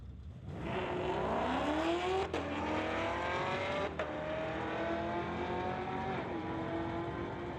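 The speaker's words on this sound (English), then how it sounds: "Two Camaros, one's old and one's new, side-by-side racing action here at Mission Raceway" An old and a new Camaro launch side by side in a drag race at Mission Raceway, engines roaring loud and near, climbing in pitch through gear changes with brief breaks as the cars pull away.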